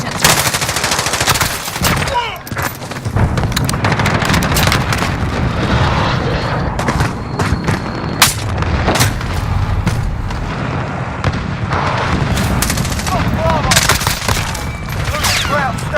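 Artillery fire-mission strike in a military shooter video game, with dense rapid gunfire and booming blasts rolling continuously at high volume, and faint radio-style voice callouts mixed in.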